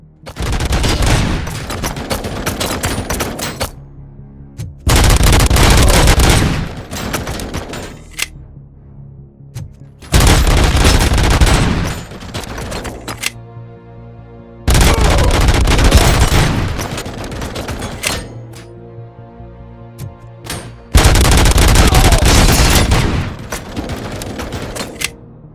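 Loud gunfire fills a shootout in RoboCop: Rogue City, with five sustained bursts of rapid shots that each last a few seconds, separated by short lulls of quieter shooting.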